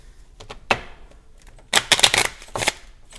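A deck of Bicycle Asteroid playing cards is shuffled by hand, short papery riffles and taps in quick bursts, close up and with no talking.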